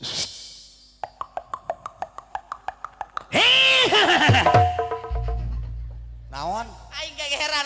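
A voice imitates a horse's laugh during a Sundanese calung dangdut comedy show, first a rapid run of about a dozen short staccato whinnying bursts, then a loud drawn-out neighing cry, followed by talk.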